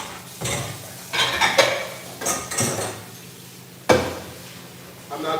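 A pan being cleaned out in a home kitchen, with pots, dishes and cutlery clattering and clanking in loud, irregular bursts close by, one sharp knock standing out.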